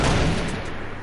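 One loud sniper rifle shot in a shooter video game, a sharp boom at the start that fades quickly into its echoing tail.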